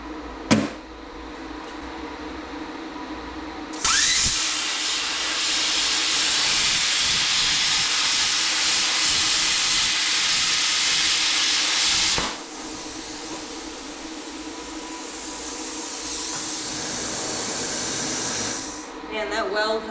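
A Bestarc BTC800DP 9th Gen plasma cutter cuts thick metal with a loud, steady, close rushing hiss. It starts abruptly a few seconds in, runs for about eight seconds, then continues at a softer level after a short break.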